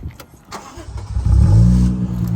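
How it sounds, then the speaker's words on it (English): A 1994 Toyota Chaser's engine cranks and fires up with the key, rising into a loud, steady low rumble after a short start, heard close with no talking. "So normally you put the clutch in and you turn the key to turn it on."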